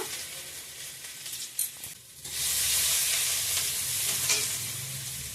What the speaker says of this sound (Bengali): জিরা ফোড়নে দিয়ে দিলাম সিদ্ধ করা আদা